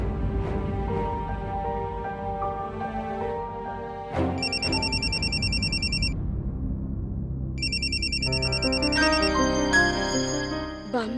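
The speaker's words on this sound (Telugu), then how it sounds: "బామ్మగారి ఫోన్." A telephone ringtone chirps in two repeated electronic bursts, the second longer, over steady background music in a television drama scene.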